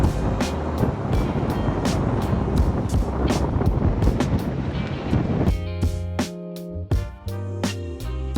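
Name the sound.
strong wind at sea on a catamaran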